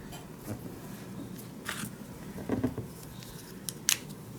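Scissors snip through fabric being trimmed to a 6-inch piece for a quilted needle book, a few quiet, scattered close-up cuts with soft handling noise between them.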